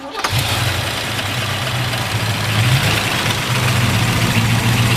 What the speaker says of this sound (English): We'll go ahead and fire it up for you.